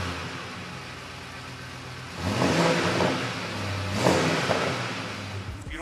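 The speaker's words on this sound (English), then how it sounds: "When you get on it, it's such an aggressive sound that it has on it." A modified car engine with twin exhaust tips revs up hard twice, a deep aggressive roar rising and falling close by, with a steady idle rumble between.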